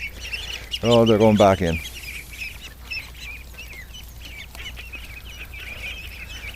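Female ducks and ducklings make brief calls, with a loud burst of clucking quacks early on followed by faint scattered peeps and chirps under quiet outdoor ambience, and a person speaks briefly.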